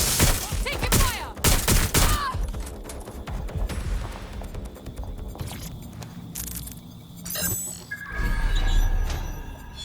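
Intense gunfire in Watch Dogs: Legion, loud volleys of shots, sharp cracks, shattering glass and thuds coming in uneven clusters, with brief quieter stretches between the bursts.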